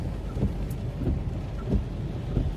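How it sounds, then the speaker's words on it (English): Storm in a parking lot in Virginia, with steady rain and low rolling rumbles of thunder forming a dense, continuous wash; no voices. "Waiting for this lightning and this rain to die down a bit"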